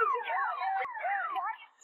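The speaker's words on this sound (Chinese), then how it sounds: "不过车子的警报声却响彻山谷" A car alarm wailing in a rising and falling siren pattern in The Walking Dead, echoing across a valley near a camp, fairly clear with a brief break midway.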